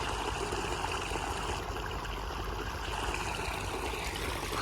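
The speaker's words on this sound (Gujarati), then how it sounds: "એટલે સ્ટાર્ટ થઈ ગયું છે પાણી જવાનું" Water from a motor pump rushes into a cumin field for irrigation, making a continuous, even gushing hiss that stays steady throughout, with no talking over it.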